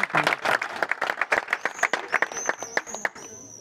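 Applause from a puppetry arts festival audience honouring volunteers, dense clapping mixed with crowd murmur and some voices, fairly close and steady through the few seconds.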